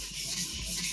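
A sujihiki knife blade rubs steadily on a 1000 grit Suehiro Debado ceramic whetstone. The strokes are close and loud, a continuous gritty scraping heard alone for about a second.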